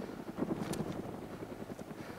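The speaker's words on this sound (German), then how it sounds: "Oh, die Helikopter kommen wieder." Helicopters approaching in the video game DayZ Origins: a faint, steady rotor chop that stays distant and low throughout, with no talk.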